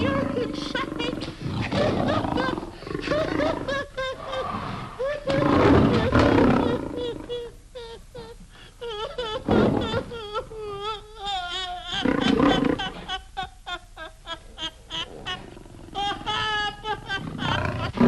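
A man disguised in a lion's skin gives roaring, growling calls with wavering, cry-like tones that rise and fall in repeated bursts across a long stretch, loud and close, with voices mixed in.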